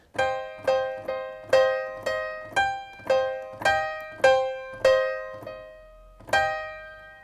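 Repeated electric keyboard chords struck at a steady pace, each ringing and decaying, with slightly uneven loudness from one chord to the next. No voices.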